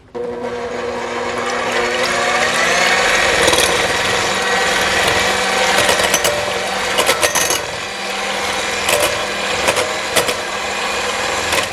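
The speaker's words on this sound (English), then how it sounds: "beat the egg and the honey with a hand mixer for 10 minutes until it is light and fluffy" An electric hand mixer whirs loudly on high, beating egg and honey into a honey cake batter, with a steady motor whine and occasional rattling clicks of the beaters against the bowl.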